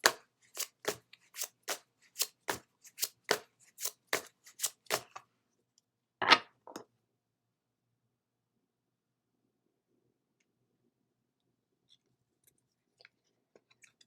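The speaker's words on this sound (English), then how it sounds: "Next, we'll pull a card from the Miracle Now deck." Shuffling an oracle card deck (Miracle Now deck): a rapid run of about a dozen crisp riffling snaps over five seconds, then one louder swish of the cards, with near silence afterwards.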